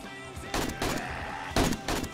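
Shotgun turrets fire at a zombie horde on horde night at a player's base in 7 Days to Die. Several separate blasts come at uneven gaps over a constant background of game noise, moderately loud.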